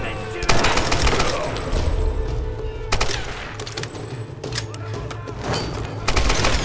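Rapid rifle gunfire from the video game Tomb Raider, loud dense bursts of automatic shots repeating across the clip with brief lulls between volleys.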